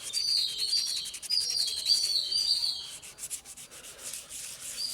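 Sanding a plastic headlight lens by hand in circular motions, giving a steady, close, scratchy rubbing with a repeating rhythm that carries on throughout, alone with no voices.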